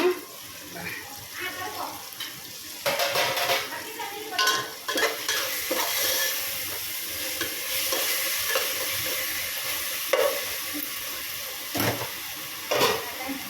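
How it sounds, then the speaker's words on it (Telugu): Chicken bagara rice being stirred in a sizzling pan of tempering, with scraping strokes coming in irregular bursts over a constant frying hiss. "ఒకసారి అంతా కలిపేద్దాము"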